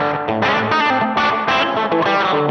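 Electric guitar through a Line 6 Helix rockabilly preset modelled on an American boutique amp, playing a brief busy phrase with a twangy, slightly driven, chorus-tinged tone, loud and alone.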